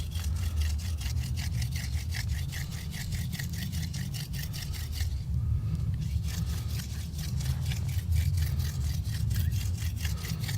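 A drill bit bores steadily into soapstone with a rapid, even rasping grind that pulses rhythmically, dips briefly in the middle, then resumes, close and alone without talk.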